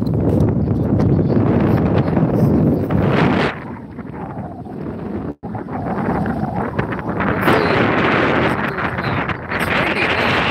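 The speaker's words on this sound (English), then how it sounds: "It's windy. Yeah, I'm sure you can hear from over there." Strong wind buffets the microphone on a fishing pier at Laishley Park on Florida's Gulf coast, a loud roaring rush that dips briefly midway and then surges back, with no voices.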